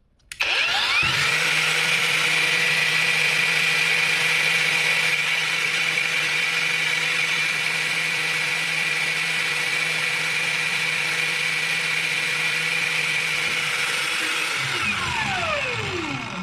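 An Einhell TP-AG 18/125 cordless angle grinder spins up to maximum speed and holds a loud, steady high-pitched whine for about fourteen seconds, then winds down at the end; no one talks.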